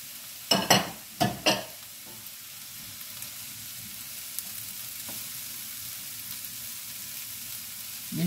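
Peppers frying in a pan with turmeric, opening with a few clattering stirs of a utensil, then a soft, steady sizzle close by with no talk.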